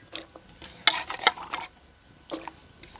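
Diced potatoes stirred into ghugni spices frying in a pan, a series of uneven scraping and sizzling strokes, some sharper and louder, with short quiet gaps between them.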